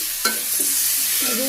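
Vegetables stir-fried with a green chili in a pan on a village stove, a steady bright sizzle with a sharp scrape of the spatula early on and soft clinks of stirring throughout.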